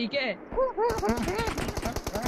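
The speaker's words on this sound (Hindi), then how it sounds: "मेरे को मालूम पड़ रहा है तू गोली चला रहा है" Rapid bursts of automatic gunfire crackle in quick succession while a person speaks briefly over the shooting.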